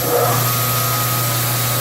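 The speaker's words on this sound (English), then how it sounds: "This is a test for our grinder going to Texas." Knife grinder with a 10-inch wheel grinding an Alabama Damascus blade that is not heat treated, giving a loud, steady motor whine with constant grinding hiss throughout, no talk.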